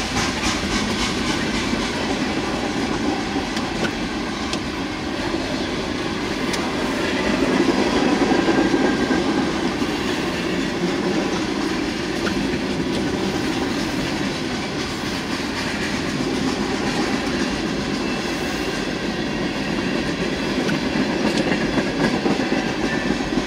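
A BNSF freight train passing close by with its locomotive turbo winding, a continuous heavy rumble with rail clatter and a sustained whine that swells midway and holds steady throughout.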